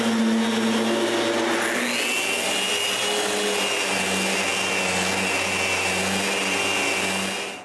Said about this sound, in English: Now that the glue is truly dry, I can finish the sanding of those drawers.